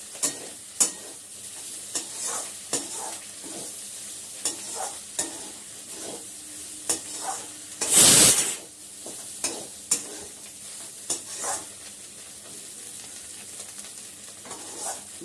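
Cauliflower and green pea stuffing sizzles in a wok while a spatula stirs and scrapes in a steady rhythm, with one louder burst of hissing partway through.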